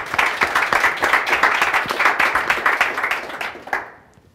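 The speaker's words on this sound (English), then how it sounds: "So let's give them a round of applause as well." Audience applause at a Startup Grind Memphis event: a short burst of close, lively clapping from a modest crowd that fades out after about four seconds.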